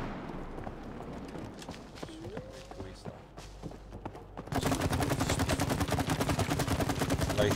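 Rapid bursts of video-game gunfire in It Takes Two, with scattered shots and footstep-like clatter at first, then a loud, dense, continuous volley over the second half.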